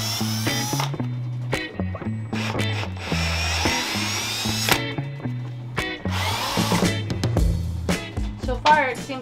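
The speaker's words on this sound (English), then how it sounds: "putting that drill in there and taking these screws out" A power drill whirs in repeated bursts as it backs screws out of a bed frame, close and loud, with motor pitch rising and falling and voices talking over the work.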